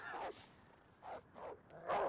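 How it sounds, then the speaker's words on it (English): A rabid dog barking in the animated film Fantastic Mr. Fox, with several short, fairly faint barks and yips spaced irregularly over a quiet background. "You just outran the rabid dog."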